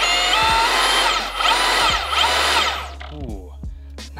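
A Milwaukee M18 deep cut band saw, model 2729, runs with a loud whirring whine that rises and falls in pitch several times, then powers down into quieter rattling and clunks near the end.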